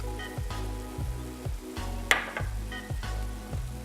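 Ground turkey sizzles in a pan close up, a steady frying hiss broken by regular stirring scrapes roughly every half second, with one sharp clink partway through.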